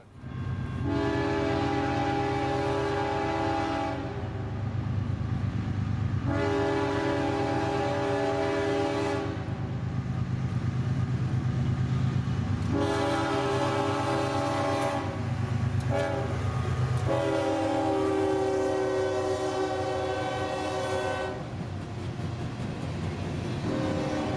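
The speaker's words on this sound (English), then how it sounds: "a monster 213-car empty coal train going towards Waycross on the Jessup subdivision" Two GE wide cab locomotives haul a 213-car empty coal train toward Waycross on the Jessup subdivision, sounding repeated long horn blasts close and loud over a continuous low rumble and clatter of passing cars.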